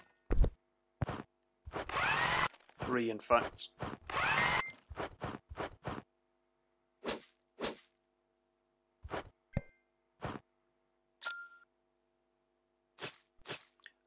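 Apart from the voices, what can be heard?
electric screwdriver driving screws in House Builder video game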